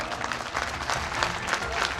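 Brief burst of audience clapping at an awards ceremony, a crowd applauding fairly loudly for a couple of seconds.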